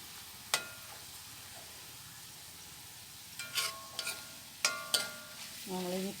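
Red chillies frying in a pan for a Kerala coconut curry: a quiet, steady sizzle under faint background hiss, broken by several sharp clinks and scrapes of a utensil stirring against the pan.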